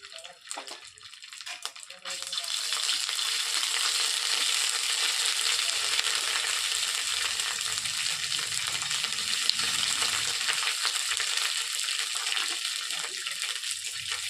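Cumin seeds and ginger paste hit hot oil and burst into a loud, continuous hissing sizzle that holds steady after a short quiet start with a few clatters.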